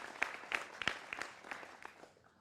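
A TV news debate studio audience gives a short burst of applause to welcome a guest, sharp claps fairly distinct and quiet, fading out after about two seconds.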